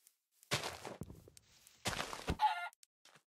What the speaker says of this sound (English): I hear chicken.